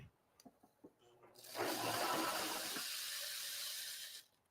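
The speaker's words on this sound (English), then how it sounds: "Now we're going to pour in the rice." Dry rice is poured through a paper funnel into a bag, making a steady close rushing hiss that lasts about three seconds. A few faint taps come just before it.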